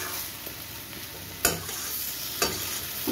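Masala with tomato paste frying in a pan, a steady sizzle with two sharp spoon-scrape stirs standing out above the hiss.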